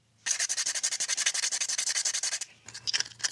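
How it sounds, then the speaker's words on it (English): A plastic toy is sanded by hand with 100-grit sandpaper: quick, rhythmic scratchy strokes, close and fairly loud, run for about two seconds, then a brief pause and a few more rubs. "You can see it's coming off with sanding."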